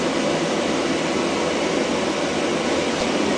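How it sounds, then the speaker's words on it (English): Calibration noise source played through studio monitors for setting listening level: a steady, dense broadband hiss, loud and unchanging throughout, with no voices. "So I'm going to initiate the noise source, and you're going to hear that"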